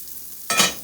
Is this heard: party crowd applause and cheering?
no